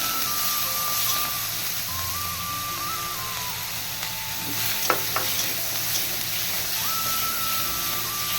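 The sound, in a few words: fish frying in hot oil for fish curry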